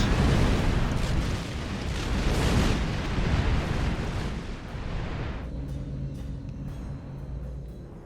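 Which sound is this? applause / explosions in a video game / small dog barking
explosions in a video game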